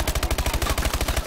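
Rapid automatic gunfire from a Call of Duty: Advanced Warfare match, a loud, even burst of many fast shots in tight rhythm with no break.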